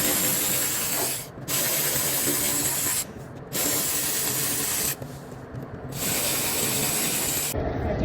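A ratchet loosens 7 mm bolts under the front bumper of a 2022 Dodge Challenger, a steady close clicking whir in long runs broken by short pauses.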